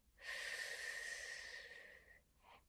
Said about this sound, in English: Then you would take a deep breath.